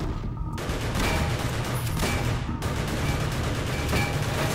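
Gunfire in the Cortex Command video game battle, a dense, loud, continuous barrage of overlapping shots and blasts with no let-up.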